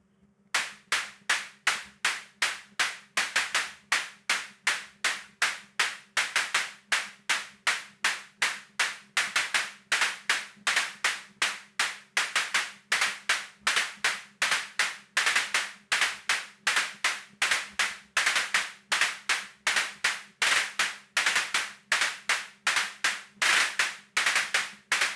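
A Korg Volca Drum machine plays a pattern using slice, with rapid, evenly spaced, sharp clap-like hits repeating without pause, some steps retriggering quickly, clear and alone.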